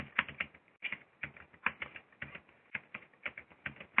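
Rapid bursts of keystrokes on a computer keyboard, typed in a quick uneven rhythm with short pauses, close and fairly quiet with no talking.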